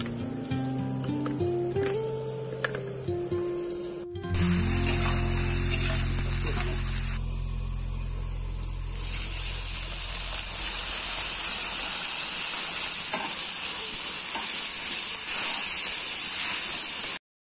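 Pointed gourd and chicken fry in a pan with a steady, close sizzle that runs continuously, with no talking over it.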